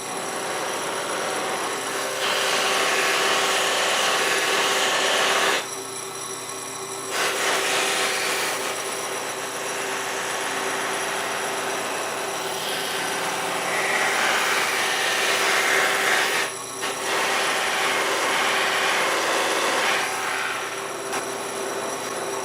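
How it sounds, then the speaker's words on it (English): A guitar pickguard's edges are polished against a spinning buffing wheel, making a loud continuous rushing, rubbing whir with a steady motor hum. Brief dips break it up as the piece is lifted away and pressed back. "I'm going to just do a quick polishing on the buffing wheel"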